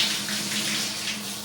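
Water from a Japanese smart toilet's waterfall spray setting runs in a steady, soft, continuous rush close by, with no voices.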